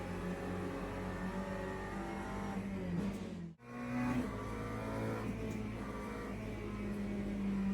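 Race cars in a sim racing video game roar as they drive, the steady engine drone dipping briefly mid-clip before rising again as the revving carries on, with no voices heard.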